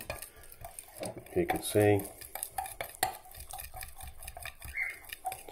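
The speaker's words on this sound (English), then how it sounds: "And stir that in." Colour drops are stirred into soft plastic lure mixture in a container: faint, irregular clinks and scrapes of a utensil against the sides, with a brief voice in the background.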